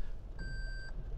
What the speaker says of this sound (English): So many beeps.